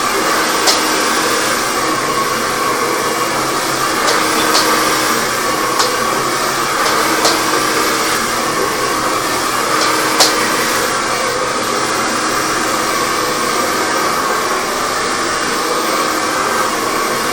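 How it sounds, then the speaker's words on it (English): A hair dryer runs continuously during a haircut while a person plays retro video games, a loud steady blowing whoosh with faint clicks and small sounds over it. "gets a little bit hard to talk when you've got the hairdryer going"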